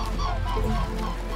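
Mute swans in Europe give loud, nasal honking calls at close range, a brief burst of overlapping honks with no talk.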